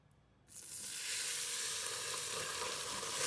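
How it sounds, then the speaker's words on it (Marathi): Hot fried-onion oil poured into a pot of marinated biryani, bursting into a loud, steady sizzle after a short quiet start and holding strong to the end, close to the listener. "हे असं तेल ह्याच्यामध्ये सगळं ओतून घ्यायचं"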